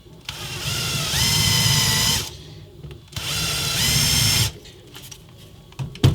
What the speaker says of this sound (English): I got a countersink bit in my drill here